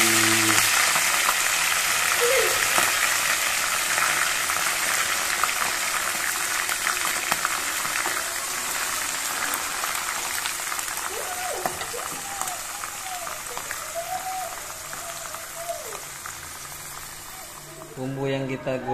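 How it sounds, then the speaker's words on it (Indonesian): Grasshoppers frying in hot oil, a steady broadband sizzle and crackle running throughout, close and fairly loud, with a voice speaking over it in a few places. "Minyaknya udah panas, siap untuk kita goreng."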